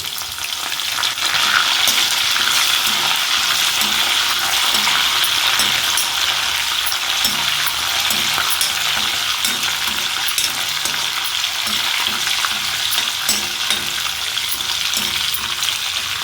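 Cumin seeds and dried red chillies frying in hot oil, a loud steady crackling sizzle that runs unbroken throughout with faint stirring beneath.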